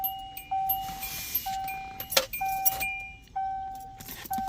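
Warning chime in a Hyundai Tiburon for headlights left on: a repeating electronic tone sounding several times at a steady pace, moderately loud inside the car, with a brief clatter partway through.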